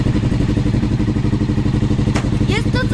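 A Suzuki LTZ400 quad engine runs under throttle with a loud, close, pulsing mid-pitched drone. A voice speaks briefly near the end.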